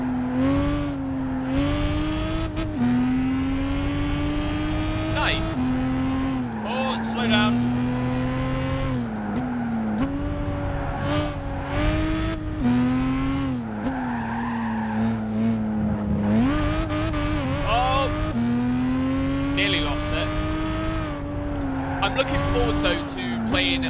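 A race car in Gran Turismo 5 drones loudly and continuously as it shifts down through the gears, its engine pitch rising and falling with tire squeals mixed in. A voice talks over it.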